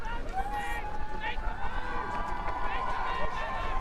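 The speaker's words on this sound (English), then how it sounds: "Start to hear the crowd ramping up now" Spectators on the bank of a rowing regatta at the BUCS Regatta make a steady, distant crowd roar that swells as boats near the finish, with a commentator's voice and babble over it throughout.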